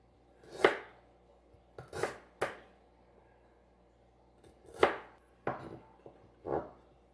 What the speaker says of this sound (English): Next, we're going to chop up the ginger.